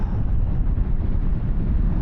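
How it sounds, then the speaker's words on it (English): Strong gusty wind buffeting a rider on a 2024 KTM 1390 Super Duke R EVO motorcycle at highway cruising speed, a loud continuous low roar with no talk. "You see that wind, it's just pushing me."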